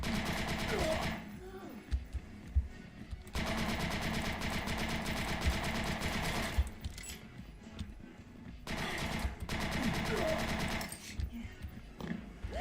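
Rapid automatic gunfire from a first-person shooter game set in space, heard in long sustained bursts separated by short pauses, with a few heavier thumps mixed in.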